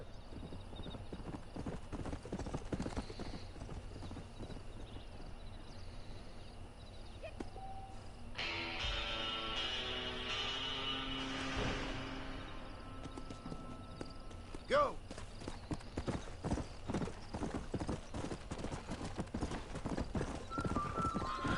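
A stallion's hooves clop rhythmically at a gallop in the Western video game Red Dead Redemption, a steady near beat of hoof strikes with a brief whinny, against background game sound and voices.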